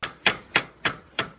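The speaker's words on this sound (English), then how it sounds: "With a little light hammer action." A light hammer taps a part into place during a Microforce Rosette mod: five sharp, evenly spaced metallic strikes about a third of a second apart, close and clear with no talking.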